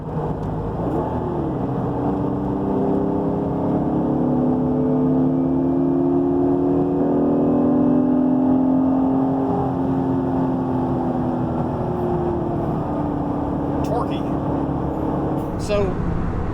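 A Honda NSX with a swapped J-series engine drives on the road. The engine hum holds steady and close, with tones that rise and fall as it changes pace.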